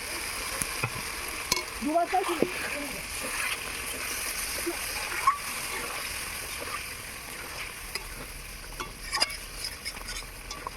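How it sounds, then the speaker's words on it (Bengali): Sugar and water go into potatoes frying in a pan for Kashmiri aloo, setting off a steady sizzle with splashes and stirring scrapes. A voice speaks briefly over the cooking. "চিনি, জল দেবো এবারে।"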